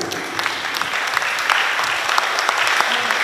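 An audience at the Micronesia Expo's Kosrae day applauds a group song performance, a steady, dense wash of many hands clapping at close range that holds evenly throughout.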